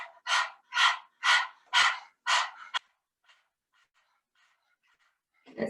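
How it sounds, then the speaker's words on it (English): A person pants rapidly from the belly in a breath-of-fire exercise during a core workout, five loud, evenly spaced breathy puffs close by, then near silence with faint breaths before another breath at the end. "you can pant like a dog"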